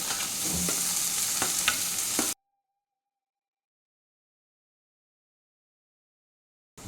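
Onions frying in oil with cloves and cumin for a banana flower curry: bright sizzling with stirring clicks for about two seconds, then silence.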